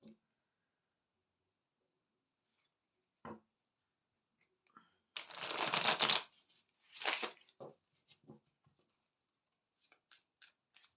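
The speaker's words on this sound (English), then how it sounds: "So let's just shuffle these cards." Brisk riffle-and-shuffle of a tarot card deck, a couple of short bursts with scattered soft taps and rustles between, close by and otherwise quiet.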